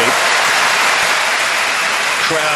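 Spectators applaud steadily through a point at a mixed doubles table tennis World Championships semi-final, a dense, even wash of clapping filling the whole moment.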